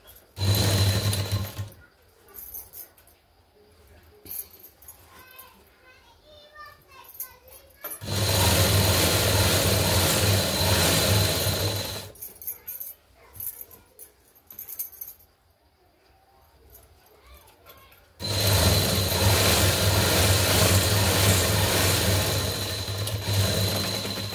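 A sewing machine runs two long, loud stitching bursts along a blouse seam, each lasting several seconds, separated by quieter pauses where someone speaks and small handling clicks are heard.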